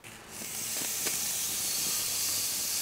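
Beef steak rubbed with olive oil and salt sizzling on an outdoor grill at Gavnø Castle: a steady, close, bright hiss that rises quickly, with faint crackles and pops.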